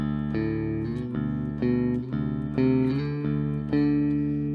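A Fender Squier Classic Vibe Bass VI riff with the bass cut engaged, its struck notes sounding tighter and more focused while ringing on in a steady pattern.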